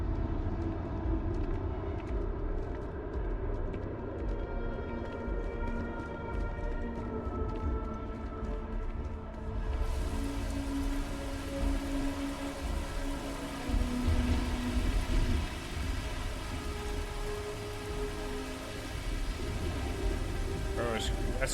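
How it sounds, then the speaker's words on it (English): Steady rain falling in the Starfield video game, a dense continuous hiss and patter layered over a low rumbling ambient drone, constant and fairly loud throughout with no pauses. "It's raining on the moon."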